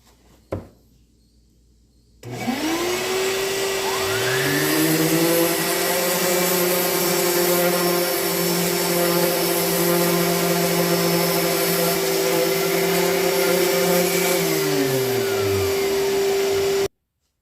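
A power sander with 100-grit sandpaper starts up on a wooden butcher block and runs as a loud, steady whine with a droning hum for about fourteen seconds, then cuts off.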